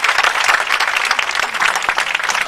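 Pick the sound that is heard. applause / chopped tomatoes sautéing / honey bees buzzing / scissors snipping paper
applause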